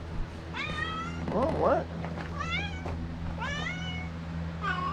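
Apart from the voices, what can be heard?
cat meowing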